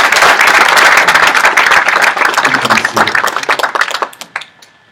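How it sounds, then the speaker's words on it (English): An audience gives a round of applause for nursing and social work students at a university honors induction ceremony, dense loud clapping that thins out and fades to a few last claps near the end. "let's give one more round of applause to the nursing and social work."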